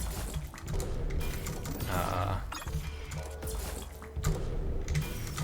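Computer keys clack in a rapid, uneven run of taps at close range, as the Q key and spacebar are pressed repeatedly during a game of Prismata, with faint background sound beneath.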